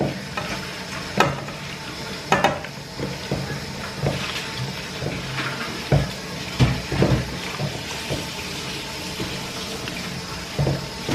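Potatoes frying in a pan while being stirred and spread around, a continuous sizzle broken by repeated knocks and scrapes of a spatula, near and steady with no voices.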